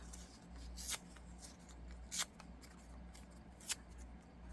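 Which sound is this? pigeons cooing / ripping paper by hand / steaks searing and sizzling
ripping paper by hand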